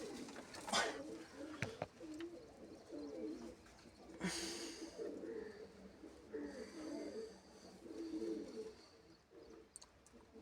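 Pigeons coo softly in a loft, several low, throaty calls repeating at intervals against a quiet background, with a few faint rustles and snorts.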